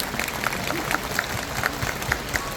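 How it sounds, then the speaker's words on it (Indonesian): A crowd gathered in a stadium for a religious prayer and sholawat event claps in a soft, steady patter that sounds fairly distant, with scattered louder claps standing out. "Boleh tepuk tangan untuk kita semua yang hadir siang hari ini."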